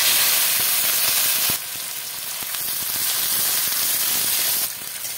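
Bay leaf and chopped onion dropped into hot oil for a Bengal-style chicken curry tempering, giving a loud, steady close sizzle and hiss that surges at the start and again near the end, with no talking.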